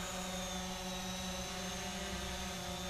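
A Visuo drone lifts off from a driveway on auto takeoff and climbs, its rotors giving a steady, loud, even whir with tonal hum that holds level throughout, no voices.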